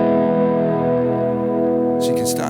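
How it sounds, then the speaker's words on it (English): An electric guitar rings out a sustained chord with a light touch of distortion, loud and close, before a few brighter scraping string noises come in near the end. "So it's just a touch of distortion over the top,"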